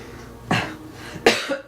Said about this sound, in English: Excuse me, morning cough.